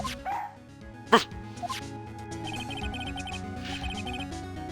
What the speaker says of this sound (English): Look, Nick, cute dog!